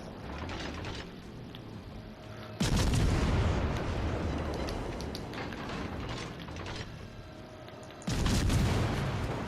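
Warship guns firing in World of Warships: Legends, two heavy booming salvos a few seconds apart, loud and close, each followed by a long rumbling decay over mechanical clatter.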